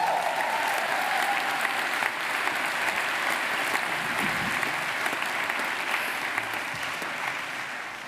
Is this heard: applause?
yes